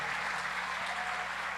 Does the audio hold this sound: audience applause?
yes